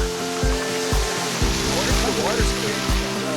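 Water pours steadily from a built-in shower at a camp spot along the California Trail in Kansas, a constant splashing hiss beneath a voice talking nearby.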